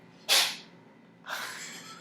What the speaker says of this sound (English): She just sneezed.